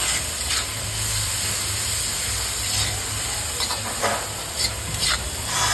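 A mixture of onion and dried small shrimp (jawla) steams and sizzles in a pan, a constant broad hiss with faint stirring scrapes and low kitchen hum, with no voices.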